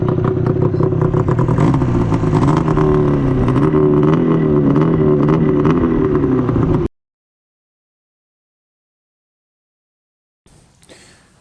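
Modified 600 Phazer snowmobile engine running loud and close, a steady rough drone with small pitch wobbles, then cutting out abruptly into silence before a brief faint return.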